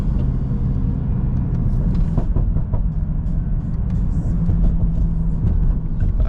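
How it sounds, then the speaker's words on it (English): A 900 hp BMW E92 rumbles along while driving, its engine a loud, steady low drone with rising and falling swells, heard from inside the car. "So you guys can actually hear the car more."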